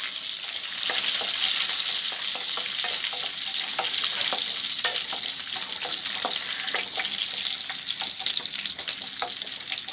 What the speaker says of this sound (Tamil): இப்போ இதில் நான் சின்ன வெங்காயம் எடுத்து வச்சுருக்கிற 10 சின்ன வெங்காயம் போடுறேன்